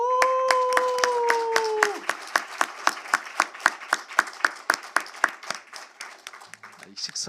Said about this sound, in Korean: 기업 가버넌스 포럼과 KCGI를 위해서 우리 박수 한번 보내주십시다.